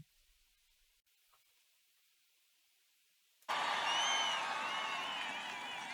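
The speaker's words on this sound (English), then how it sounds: "And they're cheering for it." Sudden burst of crowd cheering and applause with whoops, loud and sustained after a stretch of near silence, slowly easing toward the end.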